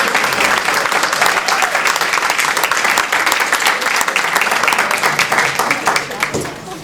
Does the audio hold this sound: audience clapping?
yes